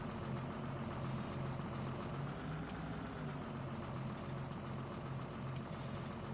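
A John Deere tractor engine in Farming Simulator 19 drones steadily at low pitch, a constant mechanical hum with a faint rhythmic pulse, heard alone without voices.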